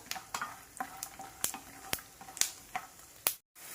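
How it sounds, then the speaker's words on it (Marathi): Peanuts frying in oil in a pan give a faint sizzle punctuated by sharp clicks and taps of stirring, with a brief silent gap near the end. "शेंगदाणे छान तळून घेतले गेले पाहिजेत"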